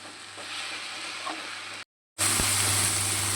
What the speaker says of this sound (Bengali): শুকনো মশলাগুলো দিয়ে খুব ভালো করে মিক্স করে নিতে হবে